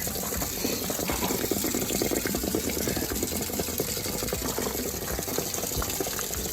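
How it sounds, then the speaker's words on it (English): Continuous rushing flow of water pouring out of an RV water heater tank as it drains and splashing, loud and steady throughout without any talking. "we're going to go ahead and drain the water"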